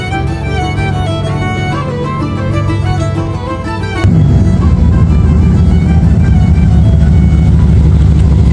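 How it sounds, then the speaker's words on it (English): A Dodge Ram truck engine runs close by, a tonal idle that jumps to a louder, rougher, heavier rumble about halfway through and stays there. "Truck is running great"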